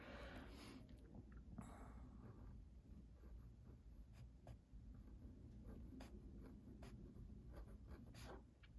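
A fountain pen writing on paper in a notebook with slim B6 binder rings, a faint continuous scratching with small strokes and ticks, close and quiet against a soft background hiss.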